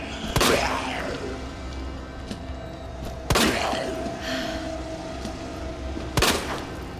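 Three sharp, loud revolver gunshots in Resident Evil 2 Remake, spaced a few seconds apart, each with a ringing decay, against a steady low background hum.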